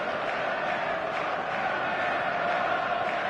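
Stadium crowd in the football video game eFootball 2025, heard as a dense, constant roar of many voices at a clear-night showcase match, loud and unbroken for the whole stretch.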